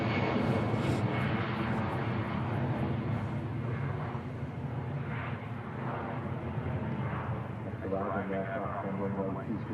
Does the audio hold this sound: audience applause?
no